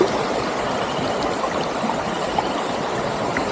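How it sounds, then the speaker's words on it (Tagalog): A strong river current rushes past at a riverside campsite in Famy, Laguna, a steady close wash of flowing water with no pauses. "malakas yung agos"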